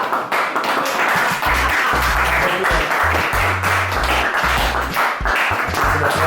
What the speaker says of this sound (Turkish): Hadi kocaman bir alkış kızlara.